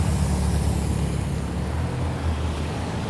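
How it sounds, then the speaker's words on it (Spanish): Traffic on a busy city street in Santa Ana, El Salvador, with a steady low rumble of buses and cars passing close by, heard from the roadside without talk. "Aquí vienen los buses, los carros"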